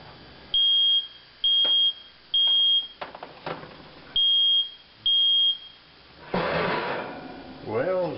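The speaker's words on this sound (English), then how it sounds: "set the alarm off" Home smoke alarm set off by smoke from an oven door opening, giving five loud, sharp electronic beeps in a broken pattern, with clattering and rustling between them and a voice at the end.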